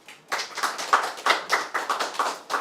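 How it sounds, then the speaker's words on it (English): Sparse, distinct hand claps from a small group at a DFC Carnival press conference, the individual claps spaced out and fairly close, with no talking over them. "Another round of applause."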